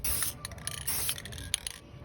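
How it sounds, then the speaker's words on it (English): Aerosol paint sprayed onto a car brake caliper, masked off with tape on a Dodge Charger R/T in a garage: a steady close hiss in short bursts with brief pauses and small clicks, with no talking. "The technique here is to spray right here, start outside of it, then let go."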